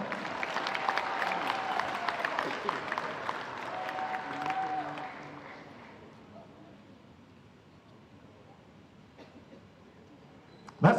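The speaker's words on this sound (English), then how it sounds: "give them a big round of applause" A crowd at a FIBA U17 Oceania basketball final between Australia and New Zealand applauds loudly with dense clapping, then fades to quiet within a few seconds, and a sharp sound lands at the end.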